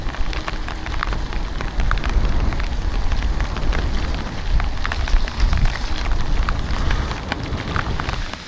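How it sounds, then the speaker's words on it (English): Rain falls steadily during a mountain bike ride at a bike park in a storm, a dense continuous patter and hiss with low rumbling noise underneath and no voices. "A little bit of rain doesn't really bother me."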